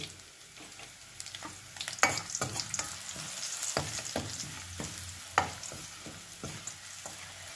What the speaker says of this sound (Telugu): ఈ వెల్లుల్లి కొంచెం పచ్చిగా పోయి ఎర్రగా ఎగాలండి